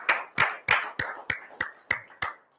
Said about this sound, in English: everybody who is in the studio has to start clapping